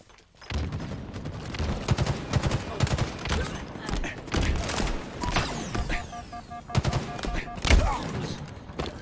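Gunfire in Halo Infinite ranked play, rapid bursts of shots and thumping impacts over several seconds with electronic game tones, and a player's voice talking between the bursts.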